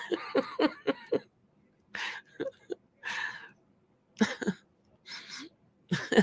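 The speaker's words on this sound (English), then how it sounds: "Oh, please, that cough" Several harsh, close coughs come in short bursts separated by brief silences, some in quick clusters.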